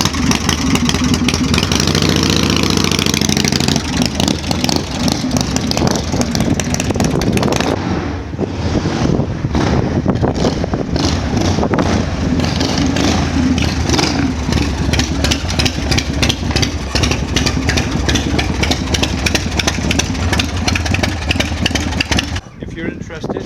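A 1990 Harley-Davidson FLSTC motorcycle engine running nearby, a loud steady rumbling idle with a brief rise partway through, continuous and close throughout.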